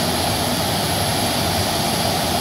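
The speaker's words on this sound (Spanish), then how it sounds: "Se encienden los motores, ya vemos el motor derecho. Siempre empieza a hacer el ruido característico de ellos." A Boeing 737's right jet engine spools up, a loud, steady, close whining roar that fills the whole stretch without pause.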